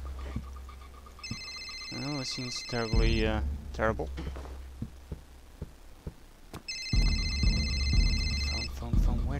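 A telephone rings in the horror video game Amnesia, two bursts of a shrill electronic trill separated by a gap, with someone talking over and between the rings and a low rumbling ambience.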